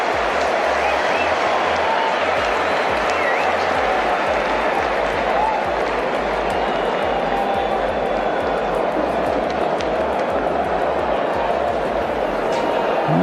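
Stadium crowd at a New Zealand versus Australia cricket super over, a broad steady roar of yelling and cheering with scattered clapping that stays loud throughout, with commentators talking over it.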